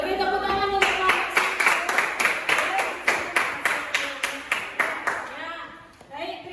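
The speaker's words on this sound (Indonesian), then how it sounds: "Beri tepuk tangan untuk kelompok." Students in a classroom clap together in a steady rhythmic burst, about a dozen evenly spaced claps, after a group presentation. A voice speaks just before the clapping and again right after it.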